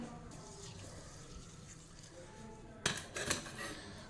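Tamarind water is poured into a pan of manthal fish curry. A quiet, steady liquid trickle is followed near the end by a couple of brief, louder splashy clatters.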